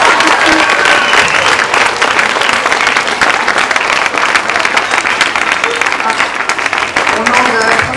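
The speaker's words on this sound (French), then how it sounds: "Je vous demande, mesdames, messieurs, d'applaudir très fort Laetitia Broche-Baron pour Ciao Papi!" Loud, dense applause from an audience at the Prix Chronos 2014 award ceremony in Switzerland, steady clapping and crowd noise filling the whole stretch without letting up.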